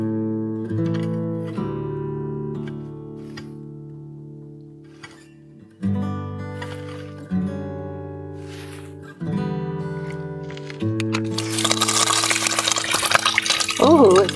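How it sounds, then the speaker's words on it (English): Water from a traditional off-grid waterway gushes through a small opened gate to flood a vegetable patch, a broad rushing surge that swells in over the last few seconds after quieter sustained tones. "I will open our little gate and try and flood a small vegetable patch here"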